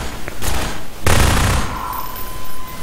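Gunfire in Half-Life 2: a loud, close burst of rapid shots, then a longer sustained volley lasting about half a second, followed by a faint ringing tone.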